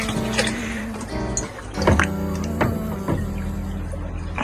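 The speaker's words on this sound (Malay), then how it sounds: "kita letak sikit air ni" Water is poured into a betta fish breeding container, a series of trickles and splashes with bright drips and small pours landing at irregular moments, near and fairly quiet.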